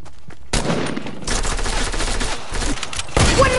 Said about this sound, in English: Why are you shooting me, brother?